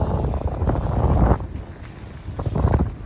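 Strong wind gusting near the microphone with rumbling buffeting and a faint whistle, on a windy, rainy day, with surges and lulls over a few seconds.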